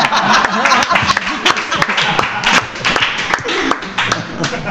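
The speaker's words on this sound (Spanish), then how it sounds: "esto de que estemos todos aplaudiendo al entrevistador" Close, sharp clapping from a small group in a studio conversation, uneven and bursty, mixed with people talking and laughing.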